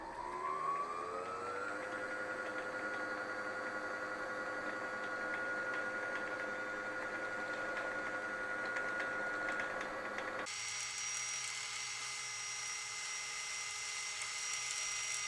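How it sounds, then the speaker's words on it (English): A sewing machine motor runs at steady speed to wind the bobbin under foot-pedal control, a continuous whirring hum that rises briefly at the start and shifts to a higher, thinner whine near the end, with no talking. "Now we're going to put our foot on our foot pedal and start pressing to wind the bobbin."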